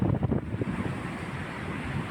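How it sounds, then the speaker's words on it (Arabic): Sea waves at Stanley on the Alexandria corniche on a windy winter day, a broad continuous surf wash with wind buffeting the microphone. "أمواج ستانلي الشهيرة"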